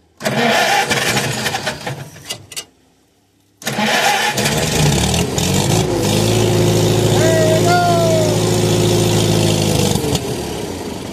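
An old engine started with the choke on, in neutral: a loud cranking burst, a short silence, then it catches and settles into a steady, rough idle with a rising whine partway through, close and dominant.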